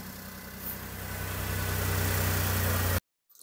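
A Toyota Xenia car engine, just started from a battery pack, runs at a steady idle with a low, even rumble that rises slightly in level for about three seconds, then cuts off abruptly into near silence.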